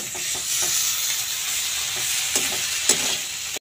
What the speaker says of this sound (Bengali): এখানে আদা এবং কাঁচা লঙ্কার পেস্টটাতে দিয়ে ভেজে নেব।